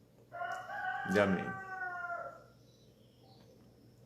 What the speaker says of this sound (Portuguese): O galo já começou a cantar.